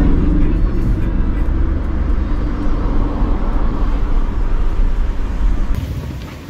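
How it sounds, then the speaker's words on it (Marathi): Dense morning road traffic heard from inside a Mahindra Maxx AC pickup, a steady loud engine and road rumble with passing vehicles blending into a continuous wash. "तर भरपूर असं ट्रॅफिक सकाळ सकाळी लागलंय"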